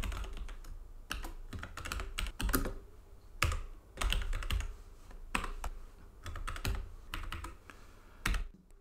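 Computer keyboard typing as JavaScript code is entered, with bursts of rapid keystrokes separated by short pauses, close and clear with no voices.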